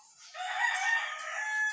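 A rooster crows once, a single drawn-out call heard at moderate distance in an otherwise quiet night setting.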